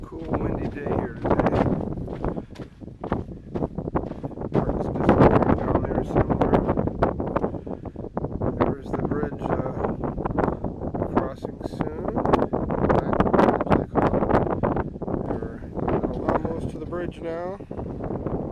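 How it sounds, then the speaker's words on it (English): Cool gusty wind sweeps across a Grand Canyon hiking trail, buffeting the microphone in loud, continuous rumbling bursts, while voices are heard intermittently through the blustery noise. "Cool windy day here today."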